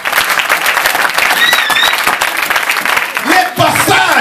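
A church congregation applauds the Lord, loud sustained clapping from a crowd filling the room, with voices calling out over the applause.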